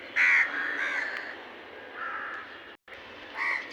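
Several crows cawing outdoors, a loud close caw first, then softer repeated calls and another clear caw near the end, over a steady background hiss.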